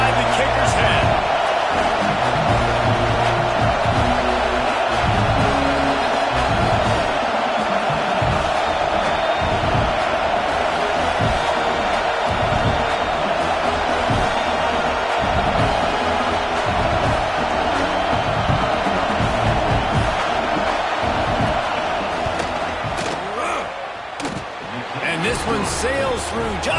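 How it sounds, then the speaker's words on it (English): A college football stadium crowd roars through a field goal attempt in a Michigan State versus Michigan game, a sustained loud wall of noise with a commentator talking over it. "This crowd trying to do its part to get inside the kicker's head."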